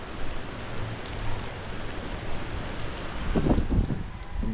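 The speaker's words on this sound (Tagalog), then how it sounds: "So ngayon ang lakas ng alon, pero hindi naman ugong lang naman, walang ulan." Strong sea waves during a storm with no rain, heard as a continuous rushing wash with wind noise, swelling into heavier crashing surges toward the end; no talking.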